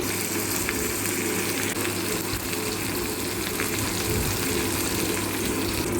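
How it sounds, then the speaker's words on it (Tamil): Chopped onion and tomato sauté together in a pan, giving a constant close sizzle of frying with faint stirring scrapes throughout and no talk. "இப்போ இது ரெண்டையும் சேர்த்து நல்லா வதக்கிடணும்"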